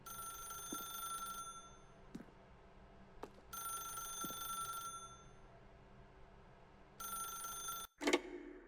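An old-style telephone bell ringing in The Stanley Parable, three long rings with pauses between them and a few soft footsteps, ending in a clunk as the receiver is picked up.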